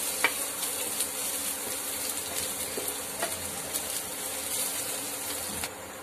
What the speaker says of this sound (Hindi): अब डालेंगे इसमें लहसुन की कलियां, जो कि मैंने अच्छे से इसे चॉप कर लिया था। इन्हें अच्छे से भून लेंगे।